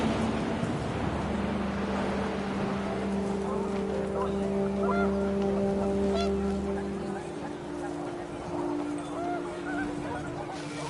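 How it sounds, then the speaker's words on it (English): Panicked geese in the video game What Remains of Edith Finch honk in a flurry of overlapping calls over a rushing wind, the honking strong at first and thinning out as the wind keeps blowing. "The wind picked up, and panicked geese appeared and quickly went."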